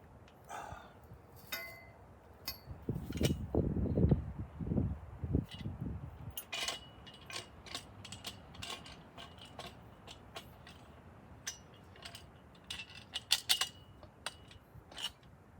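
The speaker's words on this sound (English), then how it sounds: "I like to start them and then tighten them up as I go." A ratchet wrench tightens bolts down in a run of quick clicking and mechanical rattles, with heavier low thumps near the start and sharp metallic ticks spread through the rest, close and moderately loud with no talking.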